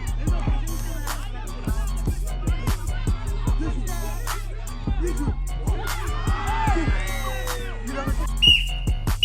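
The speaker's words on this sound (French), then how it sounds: "Le coup de sifflet de l'arbitre retentit." A referee's whistle sounds above a noisy crowd at the end of a match, with rhythmic thumping and voices throughout, and a sharper whistle blast near the end.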